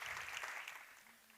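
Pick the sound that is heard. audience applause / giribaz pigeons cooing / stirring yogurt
audience applause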